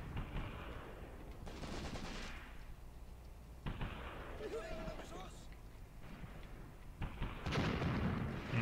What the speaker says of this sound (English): I think that's my mortar you hear firing there.